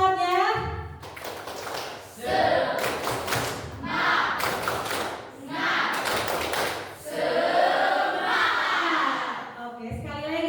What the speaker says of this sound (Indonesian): coba ibu panggil dengan tepuk semangat ya